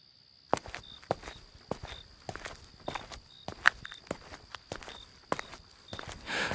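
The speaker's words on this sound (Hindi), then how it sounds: "तभी अचानक कदमों की आहट सुनाई दी।" Slow, steady footsteps in a Hindi horror story, a dozen or so evenly spaced thuds under a faint constant high insect-like whine, walking at a measured pace with no voices.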